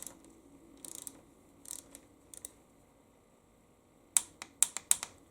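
Ratcheting clicks from a torque wrench tightening a small bolt on a 2002 Lexus RX300 U140 transmission come in short bursts, then a few sharp, louder clicks near the end, with quiet gaps between.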